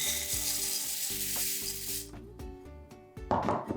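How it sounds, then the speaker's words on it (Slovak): Dry oat flakes pour into a bowl with a dense, hissing rush for about two seconds, followed by lighter scattered patters and a brief rustle. "Do misky nasypeme ovsené vločky."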